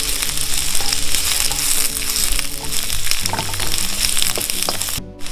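Salt and pepper lobster fries in a pan with a dense, continuous sizzle and crackle, close and loud throughout, with occasional small pops and spatters.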